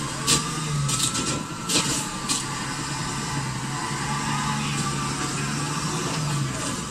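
A prison bus engine in GTA IV labors through a slow-shifting transmission, the mid-pitched motor rumbling and rising as it gathers speed again, with a few sharp impacts and clatters early on over the continuous drone.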